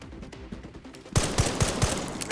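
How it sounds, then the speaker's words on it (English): Enemies trading gunfire with each other in the video game Resident Evil Requiem: after a quieter start, a sudden run of sharp, evenly spaced shots rings out, loud and close. "They're shooting at each other."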